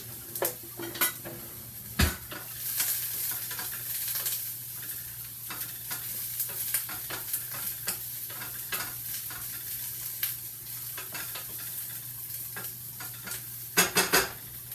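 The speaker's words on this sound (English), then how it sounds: "So right now we're sauteing up the onion." Onion sautéing in a pan for black bean stuffed peppers, a continuous sizzle with scattered scrapes and clinks of a utensil against the pan, plus a sharp knock early on and a cluster of louder clatters near the end.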